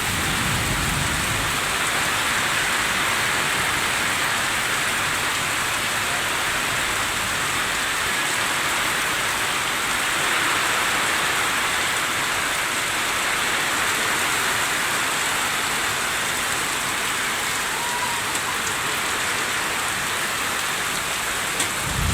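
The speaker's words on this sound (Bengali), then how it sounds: "অঝরে বৃষ্টি, অঝরে বৃষ্টি।" Heavy rain in Gazipur pours steadily and loudly, a dense unbroken hiss of drops close by with no voices.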